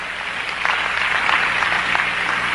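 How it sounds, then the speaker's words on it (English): Congregation applause during a sermon, a loud continuous wash of many hands clapping with a few sharper individual claps standing out, no talking over it. "clap loud for me"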